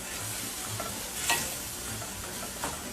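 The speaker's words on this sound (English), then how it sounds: "I like to saute my onion with olive oil first." Onion sautéing in olive oil for a Bolognese sauce, a soft continuous sizzle with a couple of light stirring scrapes, close and alone.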